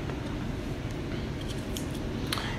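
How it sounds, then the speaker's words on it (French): Washed vegetables being cut into quarters with a knife for a mackerel salad, a few faint short cutting clicks over a steady low kitchen rumble, no talking. "On va les couper en quatre."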